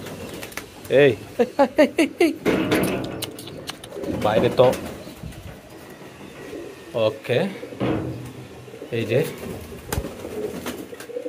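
Pigeons on a pigeon farm give close, repeated rolling coos in bursts, with rustling and clattering between calls; people talk nearby over the birds.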